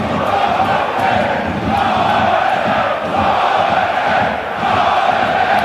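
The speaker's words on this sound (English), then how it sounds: "Crowd trying to do their bit." Dense, steady roar of a football stadium crowd at a Bochum versus Stuttgart cup match, chanting and cheering without a break at a loud, even level after a corner is won.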